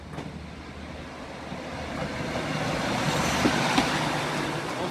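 A Class 153 diesel railcar pulls away past Sleaford East level crossing in Lincolnshire, its broad rumble building steadily and staying fairly near over a few seconds, with no voices.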